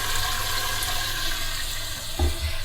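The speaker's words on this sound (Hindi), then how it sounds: "अब इसमें हम डालते हैं 2 टेबलस्पून के करीब पानी" Water is poured into a pan of frying masala for chicken nihari, giving a steady watery rush and hiss that ends in a couple of low splashes near the close.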